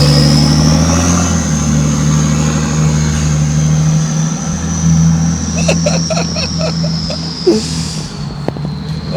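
A BMW X5d diesel SUV's engine hums and revs with a high whining tone sliding across it, while scattered clicks and rattles break in toward the end.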